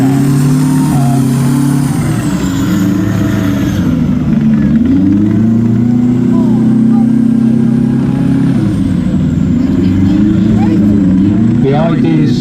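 M110A2 self-propelled howitzer and AS-90 tracked artillery vehicle driving around an arena show, a loud continuous diesel engine drone with shifting pitch as they maneuver, nearby and sustained under ongoing commentary.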